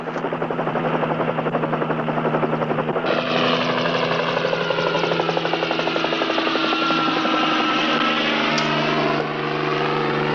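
A helicopter flies overhead, its rotor beating in a steady, dense chop with a constant engine whine, loud and unbroken for about ten seconds.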